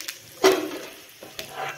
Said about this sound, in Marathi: भाजी सोडून द्यायची आणि चांगली फोडणी बसते।